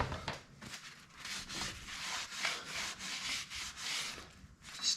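Steady, rough scrubbing on the grimy timing cover of a 1950 BSA B33 motorcycle, a close, continuous rasping rub in repeated strokes with brief pauses, alone without talk.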